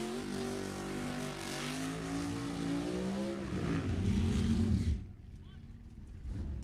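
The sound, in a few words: drag racing cars at Sacramento Raceway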